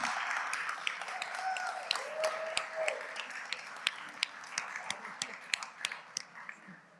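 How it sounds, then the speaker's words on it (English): A school board meeting audience claps for next year's student leaders holding certificates, a faint, thin scattering of hands with some distinct individual claps and soft voices murmuring underneath. "A big round of applause for next year's leaders"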